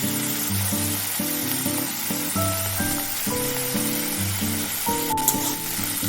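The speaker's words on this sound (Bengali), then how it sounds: "আলুটাকে একটু সাইড করে পেঁয়াজটা ভেজে নেব" Onion fries in hot oil in a pan pushed beside potatoes, a loud steady sizzle with tonal hum and music-like tones beneath, close and continuous.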